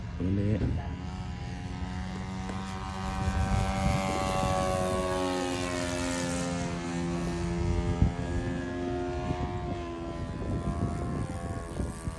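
A small propeller airplane at the small airfield in Ayutthaya drones loudly and steadily nearby, its buzzing engine tone shifting slightly in pitch as it passes.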